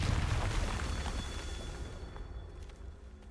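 A Confringo explosive spell blast in Hogwarts Legacy, a loud booming burst at the start with a rumbling tail that slowly fades over a few seconds.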